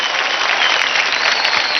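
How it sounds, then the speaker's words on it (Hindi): An audience on a televised Indian dance competition claps in steady, dense applause, loud and continuous with no voices over it. "रॉकिंग जोरदार ताली हो जाए"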